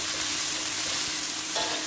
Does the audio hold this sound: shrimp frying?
yes